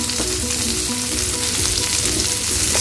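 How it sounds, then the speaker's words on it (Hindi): Diced capsicum and onion hit a pan with garlic for a red sauce pasta and sauté, giving a steady, close, loud sizzle with light stirring scrapes throughout and no voices. "अब हम इसमें डालते हैं अपने कैप्सिकम और अनियन, ये दोनों मैंने डाइस शेप में काटे हैं"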